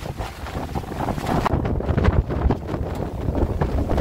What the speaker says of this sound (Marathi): मित्रांनो प्रचंड प्रमाणामध्ये वारा आपल्याला इथे पाहायला मिळतोय.